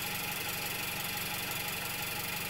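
A car engine idles steadily, picked up through a cheap piezoelectric contact microphone mounted on the engine. It gives a continuous, even hum with a faint regular pulsing throughout and no voices.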